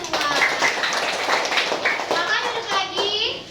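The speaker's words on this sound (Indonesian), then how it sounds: "tepuk tangan buat kita semua" Group of children clapping hands together in a classroom, a dense burst of claps mixed with excited voices and chatter throughout.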